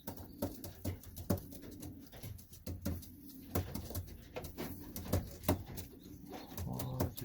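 Racing pigeons in a loft give low, soft cooing and murmuring amid a scatter of sharp clicks and taps, faint and close throughout.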